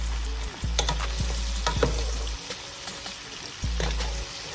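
Cabbage and other vegetables semi-frying in a pan, a steady close sizzle broken by the sharp scrapes and knocks of stirring at an uneven pace, with no talking.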